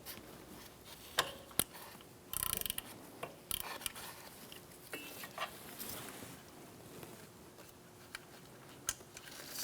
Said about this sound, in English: I'm going to use a T25 Torx bit socket and remove our bolt for our speed sensor.